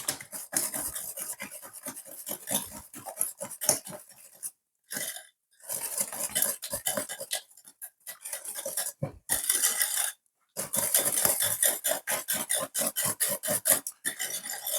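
Hand whisking eggs into cheesecake batter in a home kitchen, a steady rapid scraping and tapping of a metal whisk against a bowl, broken by a few short pauses.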